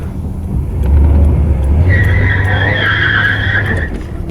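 Both rear tires of a Pontiac G-body car spin, making a loud, sustained squealing screech over a heavy engine roar for several seconds, close by and without talk.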